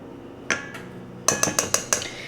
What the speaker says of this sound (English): I'm going to go ahead and mix this up just to cool that butter down a little bit